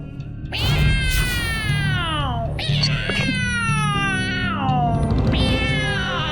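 A cat meows loudly and repeatedly up close, long drawn-out cries with falling pitch, over a low background hum.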